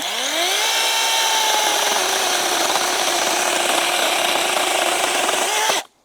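A ProCraft PKA44 cordless mini saw cuts through wood with a loud, steady whine that revs up at the start and holds for about five seconds before stopping abruptly, with nothing else heard over it.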